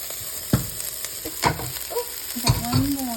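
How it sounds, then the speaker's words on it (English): Vegetables sizzling in hot oil in a pan while being stirred for a dal, a steady frying hiss with repeated scraping clacks of the utensil, close and alone. "Okay, our oil is hot and we're adding our veg."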